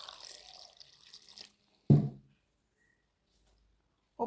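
Water poured into a pan of prawn, drumstick and jackfruit seed curry, a short close splashing pour followed by a single heavier splash, then a brief clink near the end.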